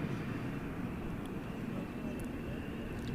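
A Delta Airbus A220-100 jet at DFW airport at night makes a continuous low engine rumble with a faint high whine on top, steady and moderately distant throughout.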